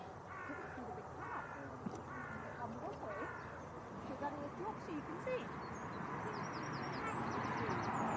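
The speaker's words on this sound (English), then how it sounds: "Can hear a lot of geese, Tom, cackling" Geese honk and cackle repeatedly near a Leeds Bradford Airport viewing spot, rough calls coming in bursts over steady outdoor background noise, with a few higher bird chirps mixed in.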